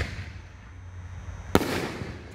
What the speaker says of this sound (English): we got 5-inch Nishiki Blast by Raccoon Fireworks.